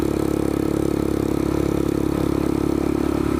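A Royal Enfield Scram 411 motorcycle riding at about 35 to 40 miles an hour on a forest road in Pennsylvania, giving a steady, close, thumping single-cylinder drone with wind roar and no speech.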